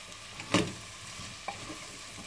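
Vegetables and spices for kadhi cook on a medium flame, giving a soft steady sizzle with a sharp stir or scrape near the start and a smaller clink a second later.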